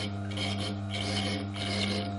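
A Tormek DBS-22 drill bit sharpener grinds a drill bit against its stone, giving a steady close rasping scrape over a constant motor hum that does not let up.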